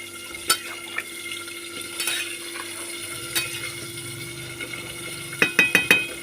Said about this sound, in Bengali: আমি আরেকবার নেড়ে দিচ্ছি